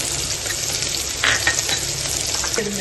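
Small shallots sizzle and crackle in a hot pan with a brief stirring scrape, a steady close frying hiss throughout.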